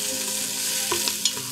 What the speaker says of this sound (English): we're going to cook our shrimp shells in the oil till they turn nice and pink